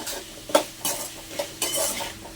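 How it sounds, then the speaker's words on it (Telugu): A spoon stirs drumstick curry with turmeric in a pan, four soft scraping strokes over a light sizzle, close and fairly quiet, with no talk. "ఇప్పుడు ఈ రెండు కూడా బాగా మిక్స్ చేసుకోవాలి"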